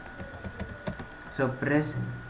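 A computer keyboard key pressed during Python coding, a few light clicks followed by someone talking.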